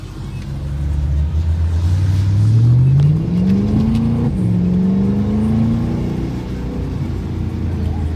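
A BMW M3 E93 drifting, its engine droning close by and climbing steadily in pitch as the throttle is held, then holding a high, wavering tone with slight dips, loud and continuous.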